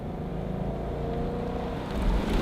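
A Ford Mustang GT's 5-liter V8 hums as a steady low rumble while cruising, swelling slightly louder toward the end.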